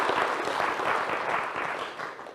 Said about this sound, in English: please, a huge round of applause to CSM 13